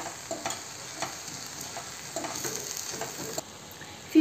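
Butter goes into a pan of peas usli and sizzles softly while the mixture is stirred. A low, steady frying hiss runs throughout, broken by repeated scraping and tapping of the spoon against the pan.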